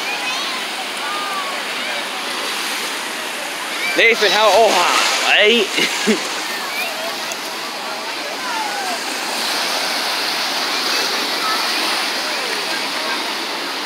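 Ocean waves washing in and retreating on a beach, a steady rushing surf with a louder splashing surge midway; a voice speaks briefly over the water.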